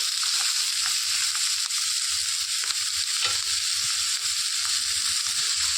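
Broad beans frying in a pan with salt and turmeric and being stirred, giving a steady close sizzle with soft scraping strokes throughout, and no talking.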